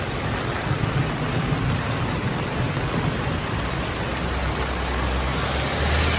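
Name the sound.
heavy rain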